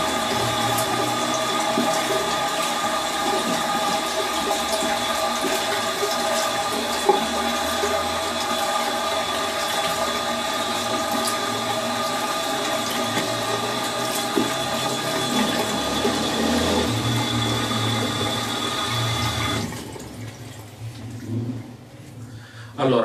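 Cold water runs steadily from a tap while someone rinses their face, a close, constant rushing splash lasting about twenty seconds before it cuts off, leaving a few faint trickles and handling noises.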